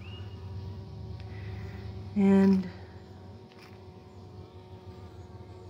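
Honey bees buzz around a hive fitted with vertical entrance tunnels, a low steady hum with one loud bee passing close for a moment, while someone talks.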